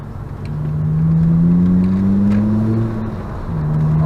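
An MK5 Volkswagen Rabbit with a cat-back exhaust revs up nearby with a deep, rising exhaust note, holds its drone, then settles and climbs again.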